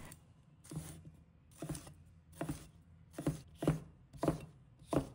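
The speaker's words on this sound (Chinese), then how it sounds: "再准备1小块红椒，把它切成小块。" A knife chops a small piece of red pepper on a cutting board, eight crisp, evenly spaced thuds landing about every half second, close and clear with no voices.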